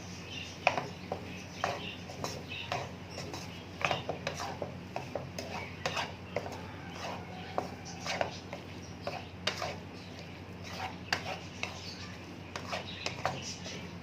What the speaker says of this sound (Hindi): आधा चम्मच गरम मसाला, आधा चम्मच काली मिर्च और आधा चम्मच नमक डाल के अच्छी तरह इसे मिक्स करेंगे।